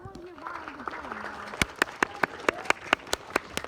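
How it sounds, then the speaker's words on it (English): An audience claps at a talk, with a speaking voice heard first, followed by a run of sharp, evenly paced claps that grow more prominent toward the end. "Clap if you clapped both times."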